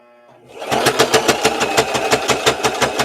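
A sewing machine stitches thick fabric for a doll, starting up then pounding in a loud, fast, even hammering rhythm of heavy thumps, close and alone.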